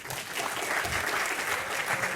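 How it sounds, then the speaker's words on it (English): A room of participants at a startup pitch session breaks into a sustained round of applause, dense and even from start to finish, with no talking over it. "give a big round of applause every time someone ends his speech"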